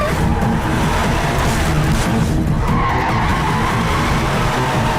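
Car tires skid and squeal through a sharp turn in a Tamil film chase, a loud continuous screech blended with engine roar and road noise, close and unbroken for the whole stretch.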